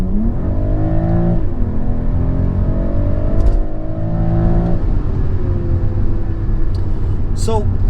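A BMW M340i (G20) engine revs hard in sport mode through several gears, pitch climbing and dropping with each shift, loud and close from inside the cabin.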